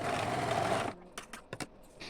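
Sewing machine running fast for under a second as it stitches folded tunic fabric, a close, dense whirring burr, then stopping abruptly and followed by a few soft clicks and handling knocks.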